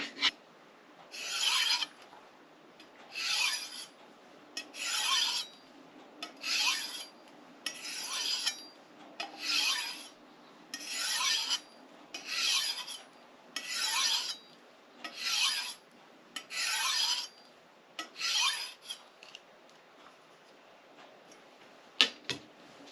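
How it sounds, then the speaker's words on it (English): A sushi chef's knife is drawn across a whetstone in steady, evenly spaced rasping strokes, about a dozen in a row, close and clear with no talk. "okay, this one needs sharpening. This one also needs sharpening."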